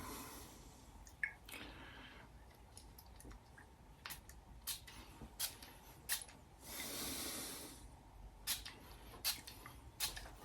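Faint clicks and taps in a quiet room, then a soft hiss of a perfume bottle spray lasting about a second, followed by more small clicks.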